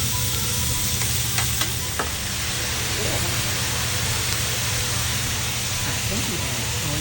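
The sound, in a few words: butter sizzling on a hibachi grill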